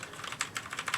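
Rapid, even keystrokes on a Noppoo Lolita Spyder mechanical keyboard with rainbow RGB LED lighting, close and fairly quiet, clacking steadily throughout with no talking.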